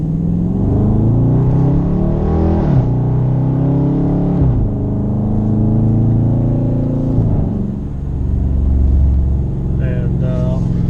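A 2018 Dodge Charger R/T Super Track Pack on the road, giving a steady low engine rumble from inside the cabin that rises and falls gently through gear changes, loud and continuous throughout.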